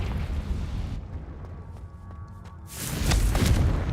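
A Confringo blasting spell goes off in Hogwarts Legacy, heard as deep booming explosion rumbles, with a second loud burst near the end.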